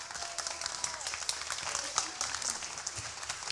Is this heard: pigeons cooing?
no